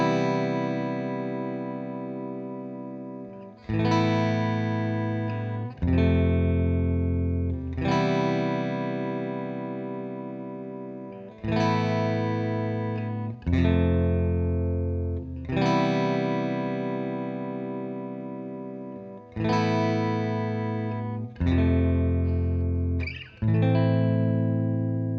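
Distorted electric guitar with chorus-style effects playing the closing section of a song, loud chords struck in a repeating rhythm and left to ring, with no voices.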